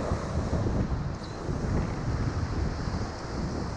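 Steady, heavy coastal wind buffets the microphone in a continuous roar, with surf faintly underneath, during lure casting from the shore for kingfish, tuna or mackerel; no talking.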